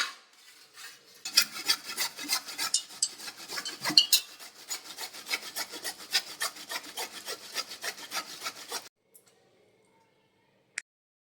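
Peeled bottle gourd grated by hand, a close, continuous rasping scrape in rapid even strokes for about eight seconds, then stopping, followed by near silence and one faint click.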